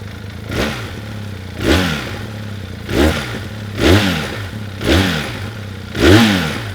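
Benelli 502C motorcycle with a 498cc parallel twin engine revving in six sharp, evenly spaced blips over a steady idle, each rising and falling quickly, loud and close with no talking.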